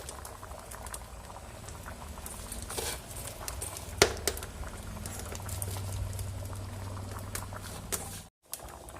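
Shrimp dalma, a thick lentil curry, bubbles steadily in a pot, a continuous close simmering patter with a brief clatter near the middle and a short cutoff near the end.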